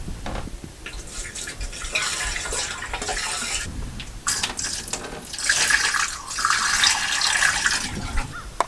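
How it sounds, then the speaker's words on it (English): RV antifreeze is poured into sink drain traps while the camper is winterized, producing close, splashy gurgling and trickling liquid sounds that swell and surge in uneven bursts, with no voices. "pour a little bit of antifreeze into the traps"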